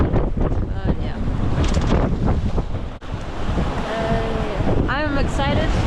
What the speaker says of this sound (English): We already had 35 knots earlier today, and the waves are just crazy